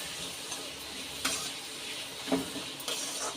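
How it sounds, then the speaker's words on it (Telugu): Curry leaves stirred in a pan for village-style gongura chicken curry, with soft scraping and a light sizzle running throughout and a few sharper clinks of the utensil against the pan. "బాగా కరివేపాక మిక్స్ చేసుకోవాలి"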